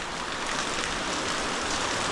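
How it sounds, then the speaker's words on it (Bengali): Steady rain falls over the Chilapata eco forest in the Dooars, a dense, even hiss that stays constant and close throughout with no voices. "আবারও বৃষ্টি নেমে গেছে"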